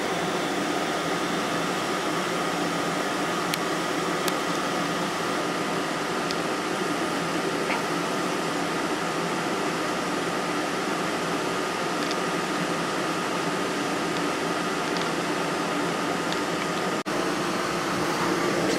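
A GE window air conditioner with its compressor running makes a steady, loud broadband hum and whoosh that holds unchanged for the whole stretch, with only faint occasional ticks.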